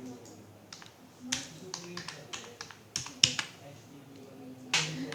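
Quiet clicking of computer keyboard keys as a value is typed in, a loose run of light taps and a few sharper keystrokes, with faint background noise.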